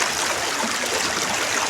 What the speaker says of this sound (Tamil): பாருங்க மதுரை வைகா தண்ணி எப்படி போயிட்டு இருக்கு பாருங்க.